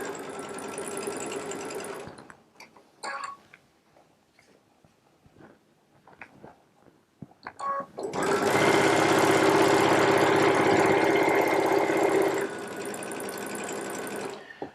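A Baby Lock Solaris sewing machine chain piecing quilt units with a 1/4-inch piecing foot, whirring in two loud sustained bursts separated by a quiet gap holding a few soft clicks and handling noises.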